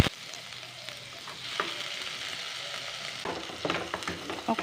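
Chopped onions hitting hot oil in a heated wok, a continuous close frying sizzle with stirring scrapes and clatter that grow busier toward the end.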